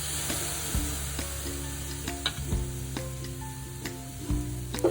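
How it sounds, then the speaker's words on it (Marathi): Dried small shrimp (sukat) roasting on a hot tawa give off a low, steady sizzle with scattered sharp crackles and pops, close by and with no talk. "सुकट आपली तव्यामध्ये भाजून काढणार आहोत"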